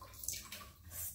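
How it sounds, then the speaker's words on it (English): Water is poured onto a makeup removing towel, giving a short, soft splash and trickle close by, without speech. "So I'm gonna put a little bit more water on it."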